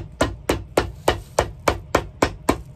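Ten sharp hammer blows in a quick, steady rhythm, each a crisp metallic strike close by.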